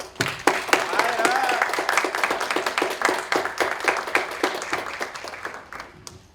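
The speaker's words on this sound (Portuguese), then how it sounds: "eu acho que a gente pode bater palmas agora para a equipe toda" Audience applause for a film team at a Blade Runner discussion event, a dense burst of many hands clapping that swells quickly and slowly tapers off, with a voice heard briefly over it.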